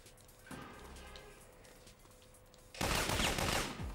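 Gunfire rings out in the video game Syphon Filter, starting as faint, scattered shots and then swelling into a dense, loud burst of sustained shooting near the end.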